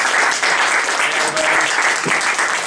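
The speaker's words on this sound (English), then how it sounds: "Let's give him a round of applause." An audience gives a steady round of applause for a speaker at an event, dense and loud clapping throughout, with a faint voice briefly audible underneath.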